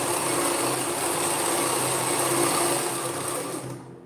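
A sewing machine stitches a blouse neckline, running in one continuous, loud, close mechanical whir for about four seconds before easing off at the end, with no talking.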